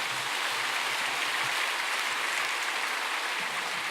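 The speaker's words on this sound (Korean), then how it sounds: "하나님께 영광의 박수를 돌려드리십시오." A large church congregation applauds during a Sunday service in Seoul, a broad, continuous wash of clapping from many hands, even and sustained without pauses.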